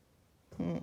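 A house cat meows once up on a table indoors, a short, fairly close cry rising out of quiet room tone and fading within a second.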